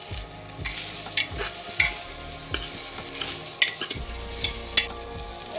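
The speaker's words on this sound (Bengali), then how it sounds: "আলুগুলো দিয়ে দিচ্ছি" Diced potatoes stirred in a pan with onion for a vegetable stew, a soft sizzle under repeated scraping strokes of the spatula, close and moderately loud with no talk.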